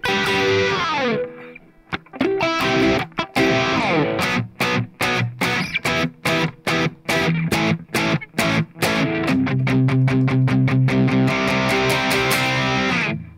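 Slow breakdown from Lustra's "Scotty Doesn't Know" on a distorted electric guitar, with choppy palm-muted eighth-note bursts separated by short gaps, then sustained ringing chords swelling up at the end. Loud and close, no voices.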